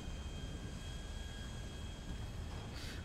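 An airplane flies in the GTA 5 video game during a comet-strike scenario over a flooded city, a steady, loud broadband engine roar holding throughout without letup.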